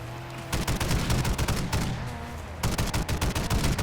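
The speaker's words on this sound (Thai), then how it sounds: "ยิงล้อยิงล้อเพื่อสกัด" Rapid bursts of automatic gunfire rattle in two long volleys with a short pause between, loud and close, game audio from Call of Duty Warzone of shots at car tires.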